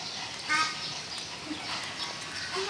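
A duck at a zoo quacks in a few short, nasal bursts against busy outdoor background noise, fairly close and moderately loud, with no clear talk.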